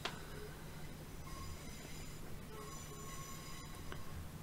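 A Class 317 electric train runs on the Braintree branch of the Great Eastern Mainline in Train Simulator, a steady rolling rumble with faint humming tones and occasional clicks throughout at moderate level.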